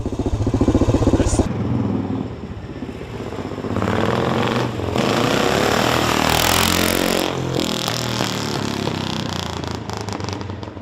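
A 1970 BSA Victor Special B44VS 441 motorcycle engine runs loud and near, holding a rough, steady drone that swells and then stays high for several seconds.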